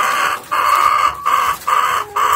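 Chickens clucking loudly and close, with a rooster's crow among them, in four drawn-out calls separated by short pauses.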